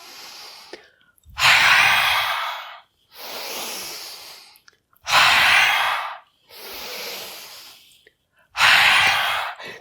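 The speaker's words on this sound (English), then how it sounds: "on the exhale, you're gonna fold forward and exhale out the mouth, sticking out the tongue" Forceful open-mouth exhales during a yoga forward fold, five long breathy whooshes spaced about every two seconds, close and loud with short silent gaps between them.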